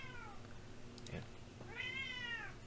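A small house cat meows twice indoors, a short whiny call followed by a longer drawn-out one, fairly close and clear over a quiet room hum.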